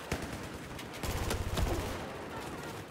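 FAMAS rifle fire in Battlefield 4 on Operation Metro Rush, with quick bursts of shots and a denser volley near the middle, moderately loud and without talk.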